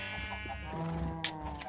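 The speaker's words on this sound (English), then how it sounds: "Wow, you're noisy, my friends. You're so noisy. Let's shear that sheep" Several sheep bleat in a farming video game, overlapping harmonic calls repeating over a steady ambient hum, fairly close and moderately loud, with a couple of sharp chime-like accents near the end.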